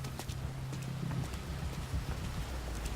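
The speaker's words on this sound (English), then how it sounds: "I hear footsteps." Footsteps in the stealth game Metal Gear Solid V: Ground Zeroes, a steady patter of soft steps running through the whole stretch over a constant low ambient hum, with no talk.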